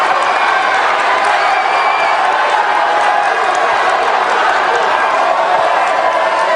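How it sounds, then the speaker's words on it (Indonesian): Supporters at an Indonesian presidential campaign event for Anies Baswedan cheer and applaud in a dense, steady crowd roar that stays loud and unbroken throughout, with whoops and clapping blended into the wash. "silakan berikan apresiasi dan aplaus dulu deh, biar semangat semua"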